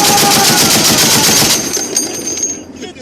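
A .50 caliber machine gun on a C-18 gun truck fires a loud, rapid, close burst that runs for about a second and a half, then breaks into scattered shots and fades, with voices faintly mixed in.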